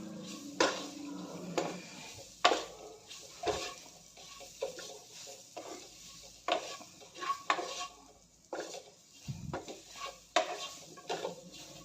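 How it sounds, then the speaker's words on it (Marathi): Okra coated in gram flour being stirred in hot oil in a pan, with repeated scraping and clattering strokes of a spoon against the metal and a faint sizzle underneath, fairly close and without talk. "भेंडी यामध्ये चांगलं परतून घ्यायचं आहे सर्व मिक्स करून घेतलेलं आहे"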